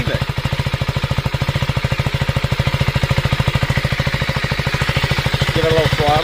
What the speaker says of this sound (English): Just wanted you to hear the exhaust. It is quiet, but I like the sound of it.